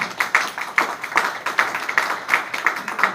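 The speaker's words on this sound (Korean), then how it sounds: "박수 좀 보내주십시오" An audience claps steadily in an even rhythm at a lecture, about two to three claps per second, close and fairly loud, with no talking.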